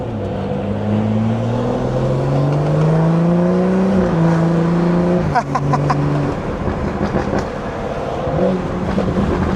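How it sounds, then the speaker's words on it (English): A BMW 340i with a B58 engine and catless downpipe drops gears from the driver's seat, the loud engine note stepping down in pitch, then a sharp blip and clattering rev as it settles into a lower gear. "that downshift without burble sound nice"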